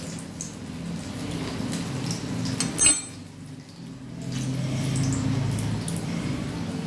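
Onion fritter (piyaji) batter dropped by hand into hot frying oil: a steady crackling sizzle, broken by one sharp splash-like burst near the middle, then a fuller bubbling fry close by.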